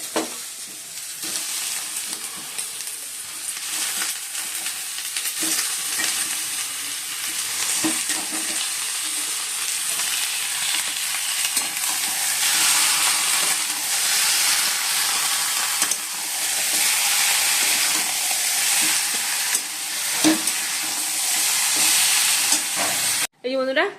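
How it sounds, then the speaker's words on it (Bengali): Chicken hits a hot pan with fried onions and potatoes, setting off a loud, sustained sizzle and steamy hiss that swells and fades as the pieces are stirred, with no talking over it. "পেঁয়াজটা ভাজি আর আলুগুলো ভাজা হয়ে গেছে, চিকেনটা ধোয়া হয়ে গেছে। তো চলো চিকেনগুলো দিয়ে দিই।"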